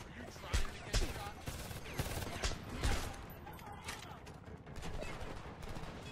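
Gunfire in the video game Homefront, a rapid crackle of overlapping shots and bursts in a suburban firefight, moderately loud with someone talking over it.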